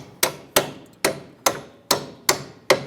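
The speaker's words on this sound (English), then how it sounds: "Tap our bolt through, and then we're going to go ahead and install our nut on the other side." Steady hammer taps driving a bolt through a front strut and lower control arm on a 2005-2010 Chrysler 300, seven sharp metallic blows at an even pace, close and loud with short ringing decay.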